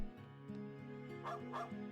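A dog in the video game Trails of Cold Steel 4 gives two quick yipping barks in a village setting, heard over a steady background music bed.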